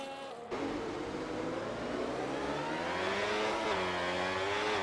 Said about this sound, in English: You can hear the traction struggles